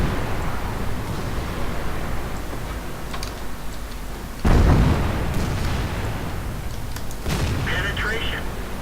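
Artillery shell explosion in the World of Tanks video game, a single loud boom midway through amid continuous engine rumble and battle noise, with a few smaller pops and ticks before and after.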